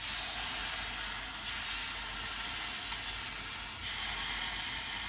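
Pandan sweet cake batter cooking in a pan: a steady, soft frying sizzle that hisses continuously for several seconds, dipping slightly twice, no voices.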